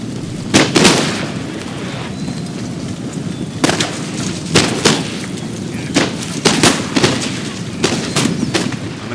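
Musket volleys from Napoleonic-era guerrilla troops in Napoleon Total War's Spanish campaign, with sharp crackling shots and ragged bursts of fire at irregular intervals over a steady battlefield rumble, loud and near.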